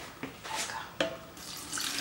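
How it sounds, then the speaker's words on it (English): Water poured into a pot holding ginger and turmeric, a broad splashing wash with a couple of sharper splashes near the start and another burst at the end, moderately close with no talk. "I'm gonna pour this water down in here"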